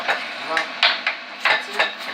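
A knife rough-chops carrots on a cutting board in a home kitchen, sharp irregular thunks landing about every few tenths of a second, close and fairly clear with faint background hiss.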